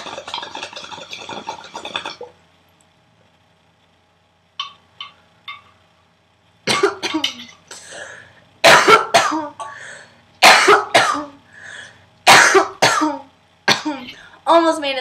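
A person gives harsh, repeated coughs and throat clearing after smoking, loud and close, with a stretch of quiet between a first short bout and a longer run of bursts.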